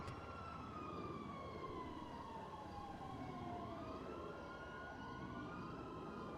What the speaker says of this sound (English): What's that siren? Cop siren?